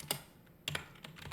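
Computer keyboard typing, a few separate clusters of quick key clicks with short pauses between them, close and fairly quiet, with no voices.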